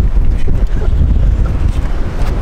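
Strong wind buffets the microphone outdoors on a windy day in Kansas, a continuous loud low rumble with gusting swells throughout and no speech.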